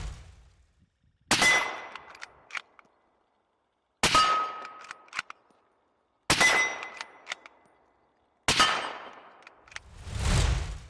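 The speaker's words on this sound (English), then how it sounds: "it was time to go shooting at the industrial yard." Four loud, sharp gunshots from a compact Savage 7mm-08 rifle at an industrial yard, evenly spaced with ringing decay and a metallic target clang after each, no talking.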